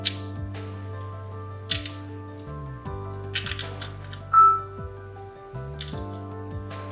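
Half a lemon squeezed by hand over peach juice with black salt in a home kitchen, giving a few soft, wet squishes and drips under steady background music.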